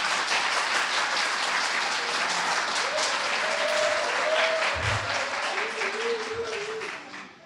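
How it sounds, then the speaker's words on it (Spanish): An audience at an academic lecture applauds steadily for about seven seconds, a dense wash of clapping from many hands that fades at the end, with faint voices underneath. "Un aplauso para ella,"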